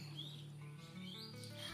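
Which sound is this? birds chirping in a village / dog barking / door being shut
birds chirping in a village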